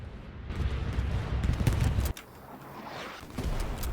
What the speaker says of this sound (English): the artillery sounds are just as terrifying as ever